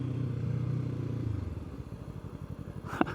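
Kove Cobra 321r motorcycle ridden slowly while maneuvering: a steady low engine drone eases into a choppy, pulsing idle-like putter, ending with a sharp click.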